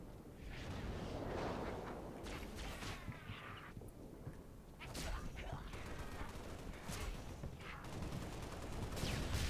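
Grenade blasts and gunfire from the video game Spartan Assault, a dense run of booming explosions and shots that stays loud throughout and swells again near the end, with a voice talking over parts of it.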